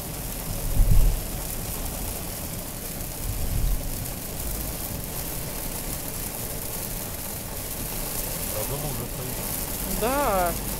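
Heavy rain pounds a moving car on a highway, a dense, constant roar of water with engine rumble underneath and people talking inside the car throughout.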